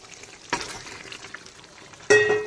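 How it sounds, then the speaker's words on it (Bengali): Mutton sautéing with spice masala in a pan over low to medium heat, for a Bengali mutton curry with Malabar spinach: a faint sizzle broken by two loud, close clattering bursts of stirring against the pan, and no talking. "প্রথমে মাটনটাকে মশলার সঙ্গে কষিয়ে নেব"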